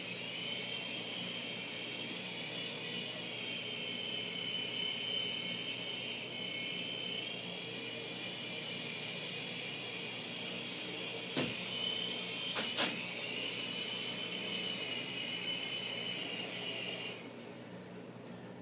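A small Helo TC toy RC helicopter flying indoors, a steady high-pitched electric whine of its rotors and motor holding for many seconds, broken by two brief sharp knocks, then dropping quieter at the end.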